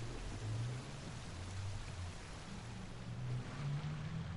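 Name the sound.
rain in the video game Genshin Impact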